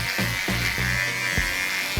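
Electric hair clippers buzz steadily while fading the neck hair upward on a boy's pompadour haircut, close and continuous, with brief dips in pitch as the blades move through the hair.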